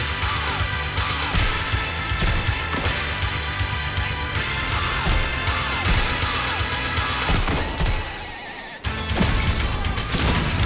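A grenade explodes in the video game Destiny 2, with a heavy burst coming late, after a brief lull in a continuous stream of loud crashes and gunfire-like combat noise.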